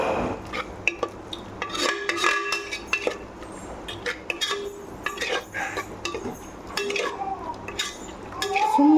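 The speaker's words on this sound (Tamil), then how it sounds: "அரைச்சி வச்சுருக்கல அதையும் போடுறேன் அதை போட்டு ஒரு கிளறு கிளறி" Ground coconut and fennel paste stirred into a cluster bean gravy in a pan, with a spoon scraping and clinking against the metal in irregular strokes, close and moderately loud, over a faint simmer.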